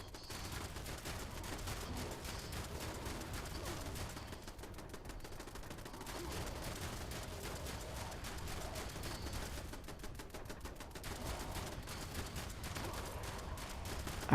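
Automated turrets firing in Fallout 76, a steady stream of rapid gunshots running continuously throughout, fairly loud and dense with no talk over it.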